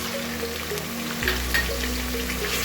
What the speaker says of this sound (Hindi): मीडियम फ्लेम पे लहसुन अदरक का पेस्ट फ्राई हो चुका है।